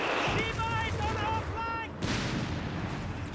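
Gunfire and explosive booms from a Flak 30 gun shooting at an anti-tank half-track in the game Company of Heroes 3, repeated impacts over a rumbling battlefield backdrop with melodic electronic beeps.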